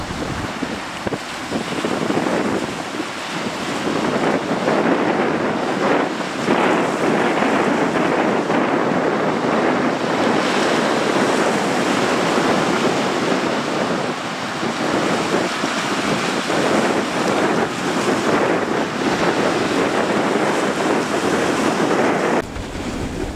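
A fishing boat out at sea in strong wind and big waves: continuous loud roar of wind buffeting the microphone and water surging and crashing, with no one speaking.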